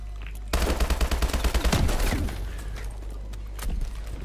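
Rapid gunfire from a video game, a dense burst of repeated shots for about two seconds followed by a few scattered bangs, loud and close, with no talk over it.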